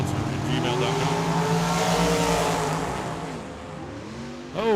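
Drag racing car at Tucson Dragway roaring as it accelerates down the strip, a loud rising engine note that fades into the distance, with crowd and announcer noise faintly underneath.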